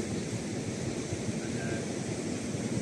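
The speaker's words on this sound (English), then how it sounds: "quite a bit of surf out there" Ocean surf at Borth Beach, a steady broad wash of breaking waves mixed with wind buffeting the microphone, continuous and fairly quiet without distinct individual breakers.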